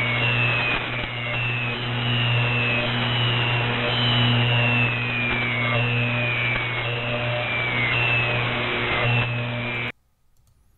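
Ghost box radio signal noise on a single frequency: a steady, harsh buzzing drone with a constant hum that runs for about ten seconds and then cuts off abruptly, leaving near-silence. No one speaks over it.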